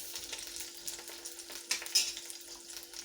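Oil heats in a pan with a faint, steady high sizzle and crackle, punctuated by a couple of sharper pops or utensil taps around the middle, quiet and close with no speech.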